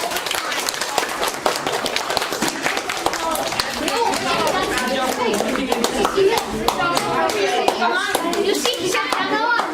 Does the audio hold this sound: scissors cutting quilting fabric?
no